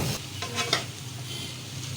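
A spoon stirs fried okra through masala gravy in a pan, with soft scraping and a low sizzle, close and steady, ending after a couple of seconds.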